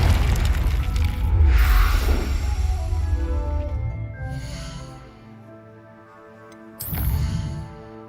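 Confringo blast spell from a Harry Potter game, a heavy booming explosion with a crackling burst, fading into a lower rumble before a second sharp impact near the end, loud and close with no talk.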